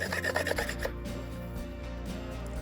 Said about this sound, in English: go around and clean up the edge where the new adhesive is gonna go. Get rid of all of the gunk